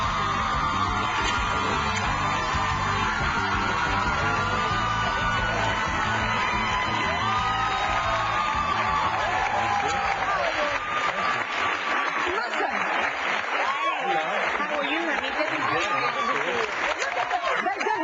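Studio audience on a daytime talk show cheers, whoops and screams loudly for a guest, the actor from JAG, a dense continuous roar of applause and yelling throughout.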